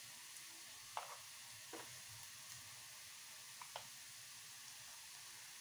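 Green chilli, onion and garlic fry quietly in a pan, a faint steady sizzle broken by a few soft stirring clicks and scrapes.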